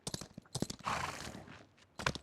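Horse hooves galloping in a video game, a quick run of hollow thumps and clatters in short bursts with a noisy rush in the middle, fairly close and moderately loud.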